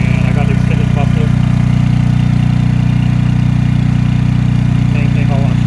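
A Westinghouse 14,500 watt tri-fuel generator with an extended muffler runs at a loud, steady drone with a low pulsing hum, close by, while someone talks over it in bursts.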